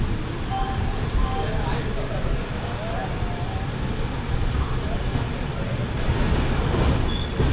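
An AC superfast train from Chennai to Bodinayakanur pulls out of Salem Junction in the rain, with a steady loud rumble of rolling wheels and faint high wheel squeals over it.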